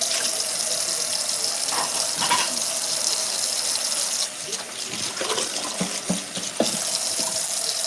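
Water runs steadily from a kitchen tap into a sink during cleanup, a continuous hiss with occasional splashes and clinks of dishes, close and moderately loud.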